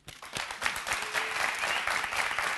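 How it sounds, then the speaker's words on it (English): An audience on a debate show bursts into applause, a dense steady roll of clapping that swells quickly and holds to the end, with no voices over it. "All right, a round of applause."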